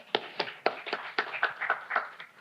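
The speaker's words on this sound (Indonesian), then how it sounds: "Tepuk tangan." Applause at a university faculty anniversary ceremony during a dean's speech, a sparse patter of individual claps, fairly quiet and brief, uneven rhythm from a small group of hands.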